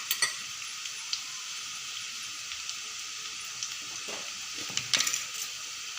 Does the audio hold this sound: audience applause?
no